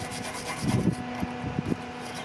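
Brief scrubbing and rubbing on Hitachi excavator pins to clear gritty crud, a few short rough strokes at close range over low background hum, no talk.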